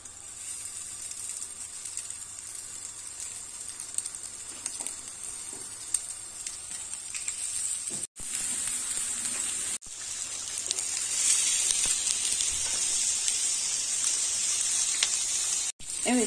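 Steady sizzling and spitting of chicken meatballs frying in a hot dry pan without oil, continuous and fairly loud, with brief gaps and occasional crackles.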